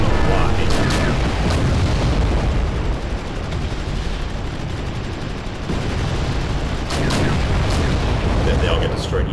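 Tanks destroying a jeep in the war game Wargame: European Escalation, with heavy booms and gunfire cracks from T-64s, loud and dense over rumbling battle noise, sharp blasts near the start and again later, while someone talks throughout.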